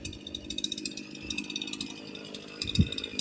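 A brand-new Echo CS-4910 chainsaw idles after its first tuning, a loud steady buzzing two-stroke engine close by, running on with a brief louder burst near the end.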